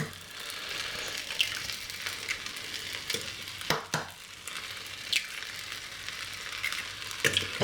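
Fried rice with two cracked eggs sizzling in a hot pan, a steady close frying hiss with occasional scraping and stirring clatters from a utensil, no voices.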